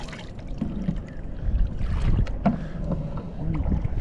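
Kayak paddling on the sea near a beach, with irregular paddle splashes and lapping water against steady wind buffeting the microphone; no talking.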